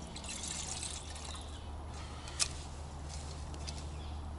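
Water poured from a mug into a metal pot inside a hot tent at minus four, a soft steady trickle over a low background hum, with a brief clink partway through.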